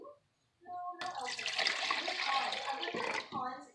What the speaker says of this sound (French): Nous allons mettre mélange liquide là dans la farine ça.